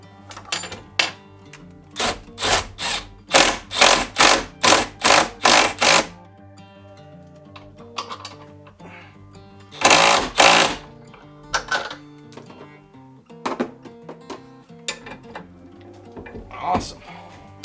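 A board being cut in half for a Harbor Freight 5-inch bench vise mount: a fast run of rhythmic, loud cutting strokes, a pause, then another short burst of cutting, with quieter workshop noises between.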